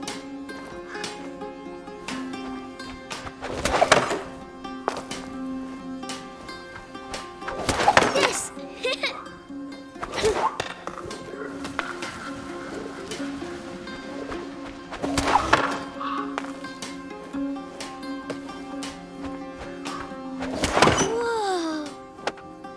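Stones slung at targets in A Plague Tale: Innocence, several separate thunking impacts spaced a few seconds apart, each sharp and fairly close, while children and other characters talk over soft ambient background.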